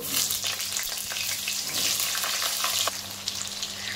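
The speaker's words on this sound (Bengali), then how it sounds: "এবার দেখো, তেজপাতা আর শুকনো লঙ্কা দিয়ে তারপরে আমি ফোড়নগুলো দিয়ে দিলাম। দিয়ে হালকা একটু নেড়ে নিচ্ছি।" Bay leaves, dried red chillies and whole spices crackle and sizzle loudly in hot oil as they are lightly stirred, a dense close hiss that eases slightly after a few seconds.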